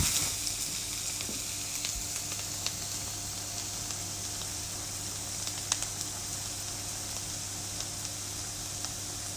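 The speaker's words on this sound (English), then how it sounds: "with the butter, start it so it's just browning" Butter browns in a pan over low heat, giving a steady, even sizzle with a faint hum underneath and occasional small clicks, with no talking.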